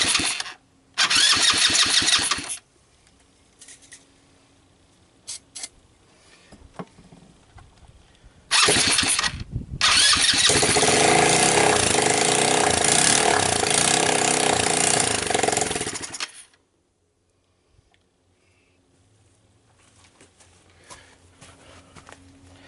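An off-road Hammerhead go-kart engine on a bench cranks briefly, then starts and runs loudly and steadily for several seconds before cutting off into near silence.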